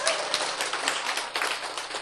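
Audience applause breaking out at a talk, a dense, steady patter of many hands clapping together for about two seconds, moderately loud and without a break.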